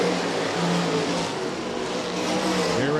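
Sprint cars racing at Rapid Speedway, a dirt track, during 305 sprint car heats: a steady loud roar of several engines with rising and falling whining pitch as cars pass, continuous with no talk.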